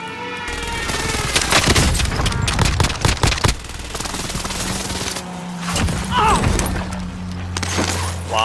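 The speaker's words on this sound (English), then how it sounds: "Enemy precision airstrike. Take cover." A precision airstrike in the Call of Duty: Warzone Pacific game unleashes a loud, dense barrage of explosions and rapid gunfire that runs almost without a break. Brief lulls and an announcer-style voice come through partway.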